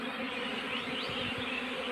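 Honeybees in a beekeeping box hum and buzz steadily at close range, a dense continuous drone with a few individual bees rising in pitch as they pass.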